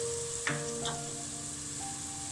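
Garlic, ginger and chili sizzle in hot frying oil in a pan while Pakistani lobia is cooked, a steady close crackle with a brief clink of a utensil partway through.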